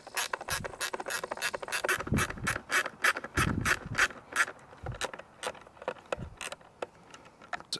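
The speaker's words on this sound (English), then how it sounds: "we're just going to remove these three bolts and hang the gas tank off to the side." A hand ratchet clicks in rapid bursts as the three bolts holding the gas tank come off a Mercury 3.5hp outboard motor, with close, loud, repeated pawl ticking that fades into sparser clicks toward the end.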